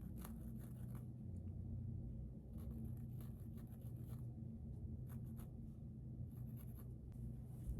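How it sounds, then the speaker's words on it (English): A Sharpie marker inks small ghost eyes on a Halloween craft, giving faint, brief scratchy strokes over a steady low background rumble, with no talking. "I'm just going to try a Sharpie on the little eyes."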